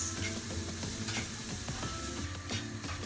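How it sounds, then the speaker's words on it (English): Carrots fry in a pan with a steady, busy sizzle while a utensil stirs and scrapes through them in irregular knocks, close up and with no voices. "You have to keep stirring to avoid burning your carrots."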